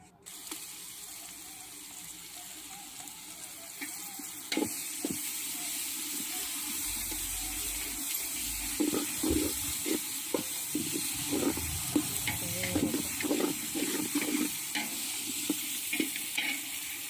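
Onions sauté in a pan with salt, with ginger garlic paste to follow, for chicken biryani: a steady sizzle and frying hiss runs throughout, with intermittent stirring scrapes in the middle.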